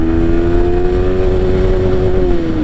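Motorcycle engine, MT 15 or Duke 250, pulling hard in second gear with a loud steady drone, pitch holding then dipping slightly near the end, close up with no talk.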